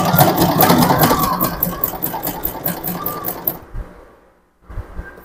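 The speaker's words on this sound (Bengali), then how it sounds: "এখন আমি অপশন 2 এ সেলাই করতেছি" A Singer SM024 sewing machine stitches in its second stitch option with a fast, even mechanical whir and needle clatter. It stops abruptly, goes silent for a moment, then starts again briefly.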